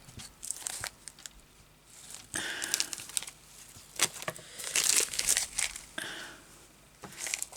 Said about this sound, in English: Plastic bag for the bin.